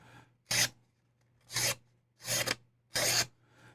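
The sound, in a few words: RovyVon keychain knife cutting paper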